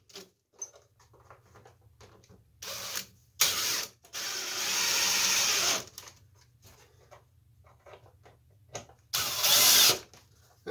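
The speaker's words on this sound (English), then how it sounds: "I drill pilot holes and countersink them so I won't have screw heads snagging stuff on the shelf." Power drill boring and countersinking pilot holes in a workshop shelf, several short loud whirring bursts separated by quiet gaps and faint clicks, no talking.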